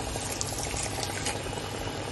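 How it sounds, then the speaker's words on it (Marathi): Heated water pours into a pot of Malvani-style mutton masala, a continuous splashing, bubbling wash of liquid that stays even throughout with no voices. "ते बघा मी गरम केलेलं पाणी टाकते."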